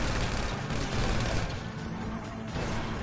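Dense, loud gunfire rattles nonstop through a GTA V firefight, overlapping bursts piling into a continuous fusillade with crashes mixed in.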